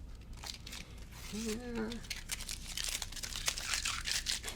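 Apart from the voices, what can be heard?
tape being peeled off woven fabric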